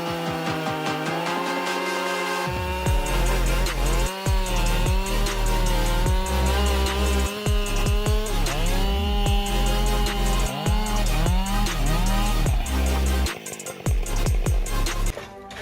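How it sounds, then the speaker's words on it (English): A Husqvarna 572X chainsaw cuts through giant logs, its engine idling low before snarling up to a loud, close, high-revving whine that dips and surges repeatedly as the chain bites into the wood. "With sharp chain links, the Husqvarna 572X chainsaw can handle giant logs in a short time."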